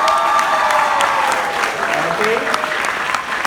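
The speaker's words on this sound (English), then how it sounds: "How about a round of applause for them?" An audience applauds and cheers for performers at a staged show, a loud, dense burst of clapping with a few whoops, while a voice speaks briefly over the crowd.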